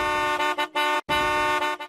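A minibus with failed brakes coming down a city street honks its horn in long blaring blasts, loud and close, with brief gaps between two main sustained honks and a shorter tail.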